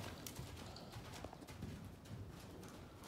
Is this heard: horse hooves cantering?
yes